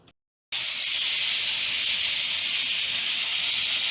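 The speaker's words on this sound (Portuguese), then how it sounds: "Isso aqui é vapor saindo da panela de pressão." Steam hisses loudly and steadily out of a pressure cooker cooking beans, a sharp continuous hiss that cuts in abruptly after a brief silence and holds unbroken to the end.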